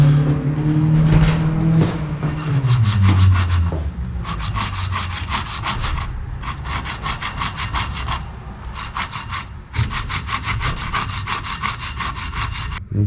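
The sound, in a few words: wet sanding a piece of glass with soapy water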